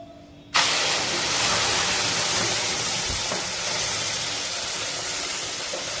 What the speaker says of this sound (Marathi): तर मी गॅस थोडा बारीक करते आणि त्यामध्ये दूध टाकते।